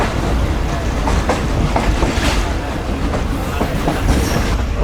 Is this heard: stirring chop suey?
no